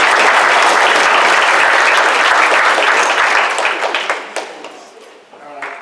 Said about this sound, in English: but good round of applause.